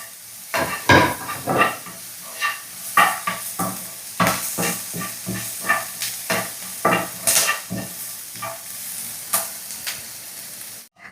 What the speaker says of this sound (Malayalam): ഇതെല്ലാം ഒന്ന് നമുക്ക് വഴറ്റിയെടുക്കാം